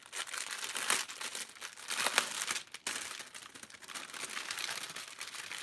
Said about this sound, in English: Sorry if the rustling plastic is annoying.